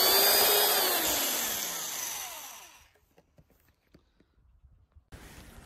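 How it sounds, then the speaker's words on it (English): A power drill whines loudly with pitch sliding downward as it bores a small hole near the bottom of a plastic water bottle, then stops, leaving soft handling clicks and brief faint noise. "I'm going to go to the opposite side and drill another small hole"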